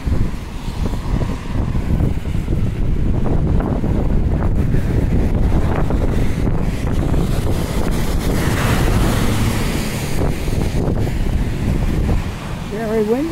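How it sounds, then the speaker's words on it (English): Strong wind buffets the microphone on a downtown walk near Quinpool Road with a loud, steady low roar that barely lets up throughout. "Very windy up here for some reason."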